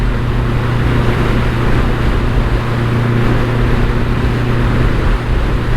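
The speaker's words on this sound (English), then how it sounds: "The Stain Tune exhaust, you know, doesn't sound too bad at speed." A BMW K100LT motorcycle's slip-on exhaust drones steadily at speed, a continuous low hum with rushing wind noise, loud and constant throughout.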